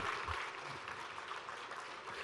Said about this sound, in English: A big round of applause for him, for his spirit.